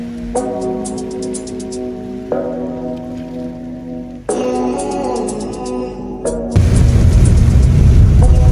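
Heavy rain pours near the foot of a mountain. A dense, loud hiss surges in late, after a stretch of earlier tonal sounds.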